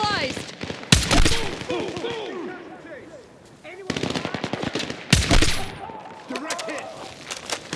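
Rapid bursts of gunfire and sharp single shots in Battlefield 6 combat, loud and close, with crackling volleys clustered around the middle and end, over chaotic battlefield noise and occasional shouted voices.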